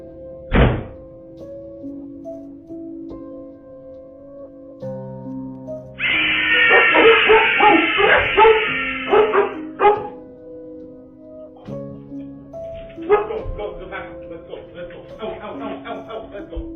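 Dogs in a bedroom bark and yelp in a burst of rough, loud calls, with a sharp thunk before it and more scattered barking afterward, set against a steady droning tone.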